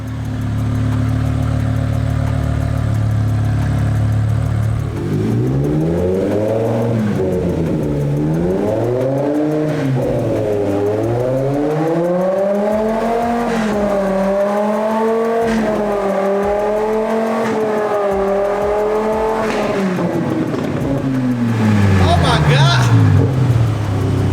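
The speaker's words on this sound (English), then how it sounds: "the M5 actually turning on, that is some very, very good news" A BMW E60 M5 engine cranks and starts, then settles into a loud idle and is revved repeatedly in rising and falling sweeps, close by, with a voice speaking briefly over it.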